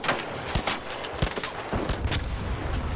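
Rapid rifle fire from a Renegade rifle in the Arc Raiders video game hits the legs of a Bombardier robot. Loud, close shots come in quick irregular bursts over a dense, rumbling background.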